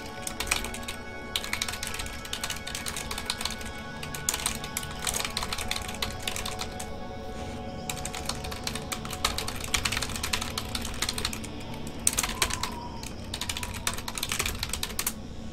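Fast, steady clatter of a computer keyboard as a chat message gets typed, close and continuous with brief pauses, no voices over it.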